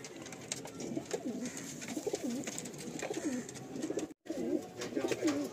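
Madrasi pigeons, including a black one, coo in a loft in soft, repeated rolling calls, fairly close and moderately quiet, with a brief dropout near the end.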